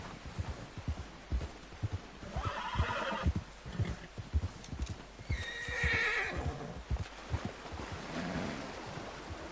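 Horse in Red Dead Redemption 2 whinnying twice while its hooves clip-clop steadily, fairly close, under quiet ambient game sound with no talk.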